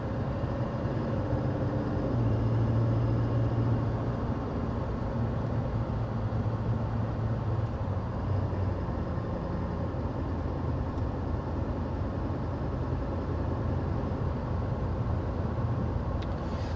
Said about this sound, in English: Let's get up to 55 miles an hour so we can get our sound level reading.